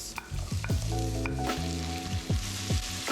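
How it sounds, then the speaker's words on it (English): Potatoes fry in hot oil, browning for corned beef, with a loud, close sizzle and repeated clanking scrapes of a utensil stirring against the pan, and no talking. "just add your oil, heat it up for less than 5 minutes, and add your potatoes"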